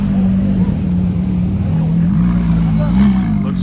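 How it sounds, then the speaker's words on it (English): A Porsche GT3 RS and a 1969 Dodge Charger drive past amid supercar traffic in Montreal during the Canadian F1 Grand Prix, a loud steady engine drone close by that swells slightly toward the end. "GT3 RS and a 69 Charger."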